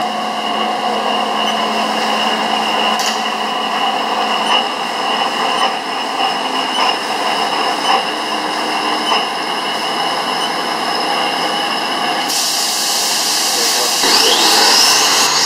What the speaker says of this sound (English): Haas VF3 2000, year 2000, spindle speed 1000 RPM.